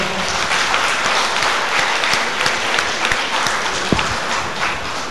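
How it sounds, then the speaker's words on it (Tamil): Loud, dense applause from a large audience, steady and continuous throughout with a few sharper individual claps standing out. "பலமா கைத்தட்டம் பார்ப்போம்."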